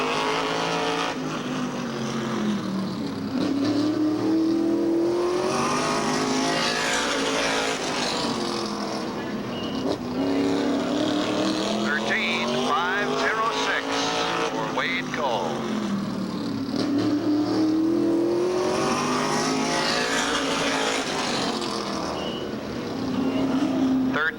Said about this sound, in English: Now we move along to car number 1, the Bill Pelly prepared machine